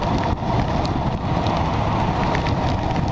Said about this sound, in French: j'ai les mains qui prennent la pluie